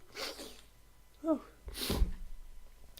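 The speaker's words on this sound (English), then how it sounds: "I'm going to sneeze" A single sharp sneeze bursts out, with quiet talk and breathing before it and a low thump and rustle afterward.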